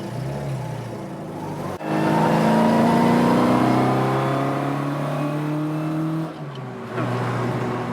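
A Vauxhall Chevette rally car engine revs hard from inside the cabin, a sharp jump in loudness into a sustained rising roar that holds for several seconds, briefly dips, then picks back up.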